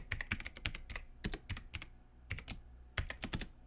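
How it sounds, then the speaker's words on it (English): Fingers tap out a password on a computer keyboard, a quick irregular run of crisp, close keystrokes in short bursts with brief pauses, no voices. "Click or hit the spacebar and type in the same password."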